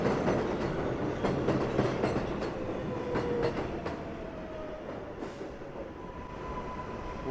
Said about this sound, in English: that train just left and another one pulled in.